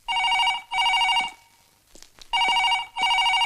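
A telephone rings in two pairs of loud, steady electronic bursts, with a short quiet gap between the pairs in which a faint voice is heard.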